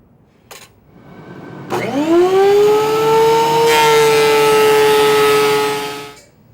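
A wood planer starts up, its motor whining up to speed, then the cutter knives bite into a wide board set for a shallow 1/32-inch pass, a loud steady roar for about four seconds before spinning down.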